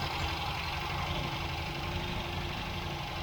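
A 1967 MGB Mk1 engine idles steadily with a low, even throb and faint mechanical vibration, close and continuous without voices.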